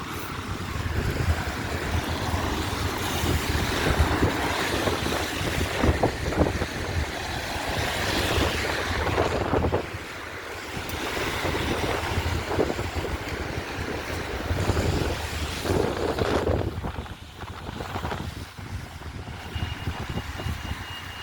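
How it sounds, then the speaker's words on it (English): Steady outdoor wind on a wet day in Barnstaple, Devon, buffets the microphone with broad rushing noise throughout, with brief dips, and a low rumble underneath. "It's a bit windy today, a bit wet as well."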